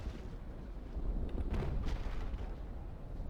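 Cannon fire from a sailing warship's volley in the naval combat game Naval Action, a dense low rumbling roar of overlapping booms that swells midway and sustains without talk.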